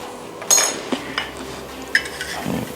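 A spoon or utensil scrapes and taps against a container to get out the last of the squid ink, a few light clinks and scrapes, close and sparse.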